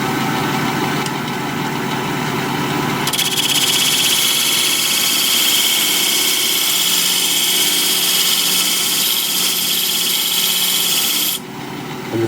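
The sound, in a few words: wood lathe spinning while turning with a bead cutting tool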